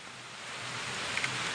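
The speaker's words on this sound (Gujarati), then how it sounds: "અમારે તો જબરજસ્ત વરસાદ પડી રહ્યો છે" Heavy rain pours down in a steady, dense hiss that fills the space evenly and closely, with a couple of faint ticks near the end and no voices.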